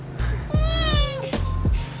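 Adopted kitten meowing several times up close, short rising and falling cries in quick succession, indoors and alone without talk.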